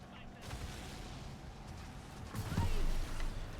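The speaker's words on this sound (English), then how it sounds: "Oh, where am I getting shot at?" Muffled gunfire and booming blasts from the Halo 2 video game roll under a continuous rumbling background, with a heavier thud near the end.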